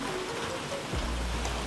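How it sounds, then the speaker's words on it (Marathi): Heavy rain falling outdoors in a village setting, a dense, steady wash of sound that fills the whole short stretch, with a low rumble near the end. "आता बघताय तुम्ही भरपूर पाऊस पडायला लागलाय अचानक,"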